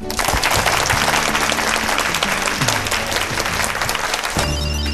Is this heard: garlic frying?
no